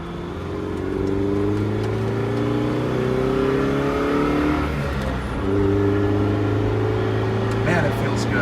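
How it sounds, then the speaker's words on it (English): A classic Lancia Flavia drives and accelerates, its engine drone holding steady harmonic tones that climb and dip through gear changes, close and continuous with some road noise over bumps. "This car just really does like to go."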